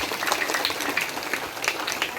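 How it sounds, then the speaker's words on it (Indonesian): A church congregation at an Ascension Day Mass at KPA Seminari in Palolo claps for Tompe, a brief patter of moderate applause with a few louder individual claps. "Tepuk tangan untuk Tompe."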